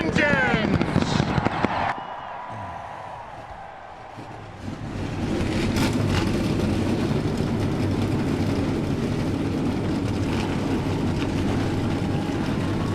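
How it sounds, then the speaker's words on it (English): Race car engines fire up at Charlotte Motor Speedway, a broad roaring rumble swelling after a brief lull and then holding loud and steady, with crowd noise and an amplified voice at the start. "Drivers, start your engines!"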